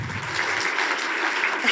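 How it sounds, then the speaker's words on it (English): Short burst of audience applause at an annual fundraising banquet, honoring standing board members; steady broadband clapping throughout, moderately loud, with no talk over it. "so we can honor them with a round of applause"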